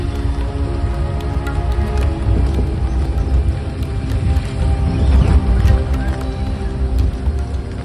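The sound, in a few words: heavy rain during jungle safari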